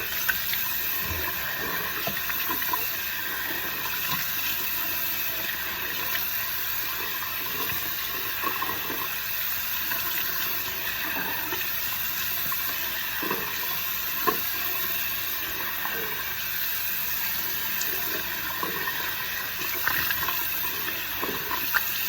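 Tap water runs steadily into a sink as a face is rinsed, a continuous close hiss with small splashes and no talking.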